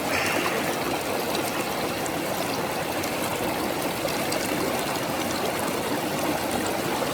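A stream on a Northern California stretch of the Pacific Crest Trail rushes steadily close by, a continuous broadband wash of flowing water with no voices.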